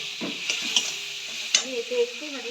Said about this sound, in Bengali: এটা দিয়ে ভালো করে মানে কষাতে থাকবো